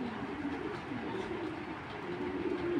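Racing pigeons from a Koopman line coo in a loft, low rolling calls overlapping in a soft, steady murmur heard faintly and without talk.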